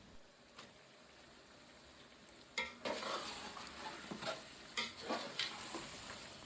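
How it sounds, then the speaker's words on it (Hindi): Tomatoes frying with chicken pulao in a pot, a steady close sizzle that grows louder after they go in, broken by scraping stirs and clinks of a spoon against the metal. "अब इसमें डाल देंगे टमाटर।"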